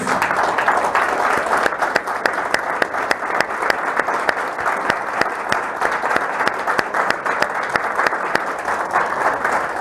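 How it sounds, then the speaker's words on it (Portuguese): A church congregation applauds during a Portuguese-language worship service, a dense, steady clapping that runs evenly and loudly for the whole stretch with no break. "Palmas para Jesus."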